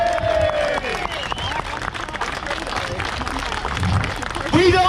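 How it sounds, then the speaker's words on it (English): A crowd at an outdoor London demonstration claps and cheers in the open, a mixed wash of applause and shouts with voices rising over it and a louder burst at the close. "Give yourselves a round of applause."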